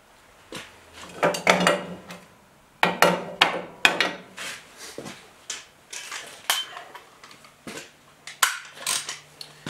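Metal washer and nut fitted by hand onto the front spindle of a Willys Jeep CJ3A: a run of light, sharp metallic clinks and clatters in irregular bursts, close by and fairly quiet, with short pauses between.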